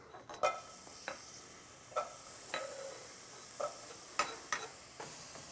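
Food sizzles quietly in olive oil in a hot saute pan on the stove, punctuated by several sharp scraping and tapping sounds of a utensil stirring against metal.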